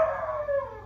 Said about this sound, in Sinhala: මූමේ බුරන්